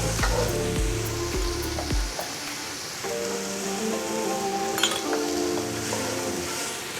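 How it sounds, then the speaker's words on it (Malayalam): Thinly sliced onions with salt sautéing in a pan for a Kerala chicken dish, a steady sizzle with a utensil scraping and clinking against the pan, with faint background sounds. "ഇതിന് ആവശ്യമായിട്ടുള്ള ഉപ്പ് ഇട്ട് ഇതൊന്ന് വഴറ്റിയെടുക്കാം."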